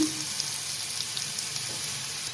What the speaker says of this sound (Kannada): ಎಣ್ಣೆ ಕಾದಿದೆ, ಜೀರಿಗೆ ಹಾಕೋಣ